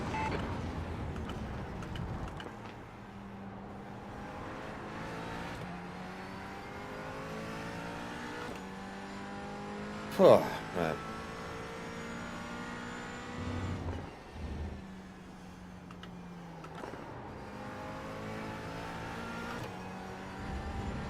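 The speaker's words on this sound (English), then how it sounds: "There's a faster car approaching." Race cars in the iRacing sim game: a steady engine drone with shifting revs runs throughout as a faster car closes in, with a brief loud spike midway and a short remark spoken near the end.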